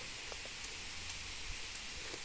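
Rain falling outdoors, a soft, even hiss of steady rainfall with scattered faint drip ticks, fairly quiet and continuous, no talking.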